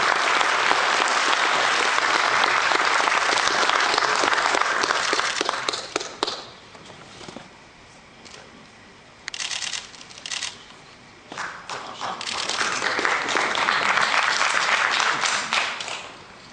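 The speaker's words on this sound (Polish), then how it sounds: "Gorące brawa. Janusz Lewandowski" An audience gives warm, dense applause for Janusz Lewandowski at an anniversary gala, loud and sustained, dipping partway through before swelling again.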